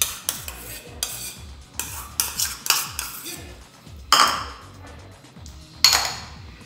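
A spoon stirs dulce de leche and cream together in a bowl, producing a string of clinks and scrapes against the dish in an irregular rhythm, close and fairly loud, with a few sharper knocks.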